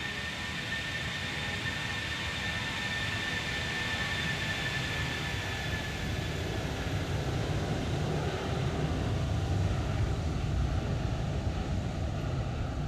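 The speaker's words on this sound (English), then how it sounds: "A little flyby here as we leave Inverness behind us." A Toliss A321 airliner roaring past in the X-Plane 12 flight simulator, a steady broad engine rush with a faint high whine, constant and loud throughout with no talk.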